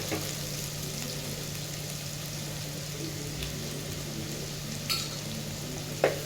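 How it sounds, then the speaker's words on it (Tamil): Bitter gourd fries in a pan with a continuous sizzle, and occasional stirring scrapes and clinks sharpen near the end. A steady low hum runs underneath. "கட் பண்ணி வச்சுக்கிற பாவக்காய் போட்டுக்கலாமுங்க. அப்படியே நம்ம கொஞ்சம் கிளறி விட்டுக்கலாமுங்க."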